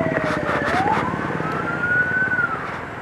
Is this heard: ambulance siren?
yes